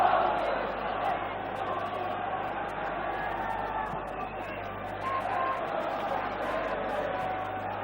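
The stadium crowd at the 1989 Liverpool versus Arsenal title-deciding football match keeps up a steady, distant roar and murmur throughout, with no sharp peaks of cheering, while a commentator speaks over it.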